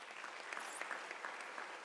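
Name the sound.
audience applause at graduation ceremony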